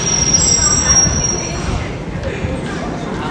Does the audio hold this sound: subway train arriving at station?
yes